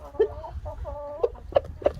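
Several chickens cluck close by inside a chicken coop, short bursts and clucks spaced unevenly over low background rumble.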